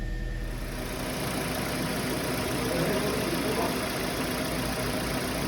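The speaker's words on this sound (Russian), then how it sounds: "Двигатель работает тихо, ровно, стабильно." A rebuilt Kia Forte engine idles with a steady, even hum and faint rhythmic knock, continuous and close, with no voices over it.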